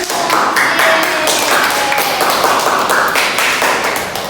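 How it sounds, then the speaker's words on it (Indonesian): Classmates clap their hands together during a classroom teaching simulation, loud and close, forming a steady patter of many claps that runs for several seconds with no talking. "Kita kasih tepuk tangan dulu yuk."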